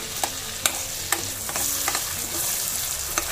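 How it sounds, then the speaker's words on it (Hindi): Caramelized onions go into a pan of tomato puree for restaurant-style paneer tikka masala, with several sharp spoon scrapes and clinks over a steady close sizzle. "ये जो प्याज कैरमलाइज करके रखे थे ये डाल देंगे सारे"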